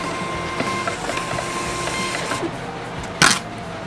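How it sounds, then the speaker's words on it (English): A label printer prints shipping labels with a steady mechanical whir and rapid ticking feed, ending in a short louder burst as the label finishes. "they print out my label printer in the same order"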